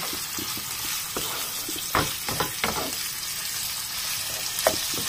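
Food fries in a pan with a steady, close sizzle, punctuated by scraping stir strokes and small pops at irregular intervals.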